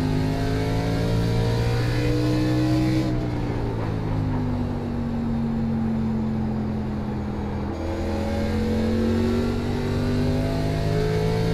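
Race car engine in iRacing during a K&N National Series race at USA International, a steady loud drone with rising and falling pitch as it revs and shifts, continuous throughout with no talk.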